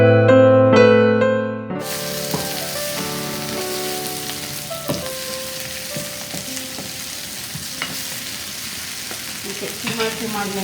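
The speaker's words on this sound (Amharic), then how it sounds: "ነጭ ሽንኩርቱንም አንድ ላይ ከስፒናች ጋር ጠብሳለሁ።" Garlic and spinach fry loudly in a pan, a steady close sizzle with occasional stirring clinks, following a short burst of musical notes at the start.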